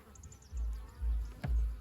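Buckfast honeybees buzzing faintly at a hive split, with low rumbling swells underneath. No one speaks.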